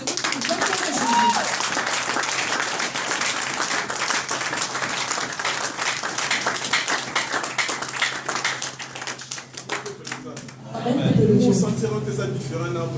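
A church congregation claps in sustained, dense applause with voices and some laughter mixed in, fading near the end as a speaker's voice takes over.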